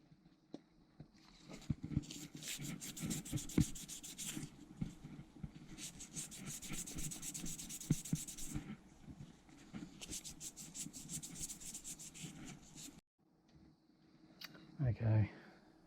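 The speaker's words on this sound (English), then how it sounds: "So I've got some 1000 wet and dry. I'm just going to give it a quick tickle up" Fine 1000-grit wet and dry paper rubs over a brake caliper piston from a Kawasaki ZXR 250 motorcycle, producing bursts of soft, close scratching strokes broken by short pauses, with a voice faintly present and a few handling knocks near the end.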